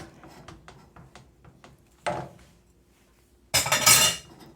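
A spoon scraping and clinking against a pot while chicken lemon rice soup is stirred, with light taps followed by two louder, rougher scrapes near the end.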